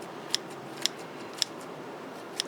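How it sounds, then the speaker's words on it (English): Scissors snip shiitake mushrooms off a growing block into a harvest tray, four crisp, evenly spaced clicks over a quiet background. "Just go through and cut these mushrooms right off."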